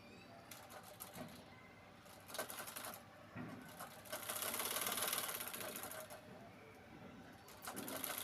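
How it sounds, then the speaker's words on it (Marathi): Sewing machine stitching a straight seam along piping to join two fabric pieces of a chapati cover, a steady mechanical whir that swells and fades in bursts with no voices. "त्या पायपिंगवरून परत एक शिलाई मारून आपण दोन्ही पीस जोडणार आहे"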